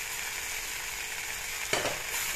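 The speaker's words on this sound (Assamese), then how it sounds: "এতিয়া ইয়াত মই শুকান মাছকেইটা একেলগে দি দিম" Dried fish sizzling in a hot pan, a steady bright frying hiss with a short burst of louder spitting near the end, close and alone.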